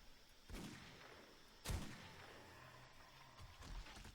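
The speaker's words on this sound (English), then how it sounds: "You're just gonna shoot all your bullets out because you can't aim?" Shooting at an enemy in the video game 7 Days to Die: two or three faint, spaced gunshots with dull booming tails over a quiet background.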